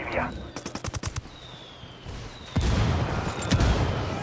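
Rebel indirect fire in Ghost Recon Wildlands: a rapid burst of close gunfire gives way to heavy booming explosions rumbling loudly, with one big blast and then a second hit shortly after.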